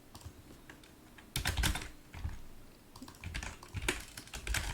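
Rapid clattering keystrokes on a computer keyboard while entering a formula, with bursts of clicks and a few heavier key presses like Enter, close and steady with no talk.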